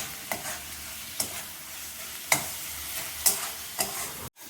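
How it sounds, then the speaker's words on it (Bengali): Bay leaves dropped into a little hot oil while cooking an aloo chicken curry, giving a steady soft sizzle with several sharp crackling pops and stir scrapes, close by, no voices. "অল্প তেল আর তেজপাতা এখন দেওয়া হলো।"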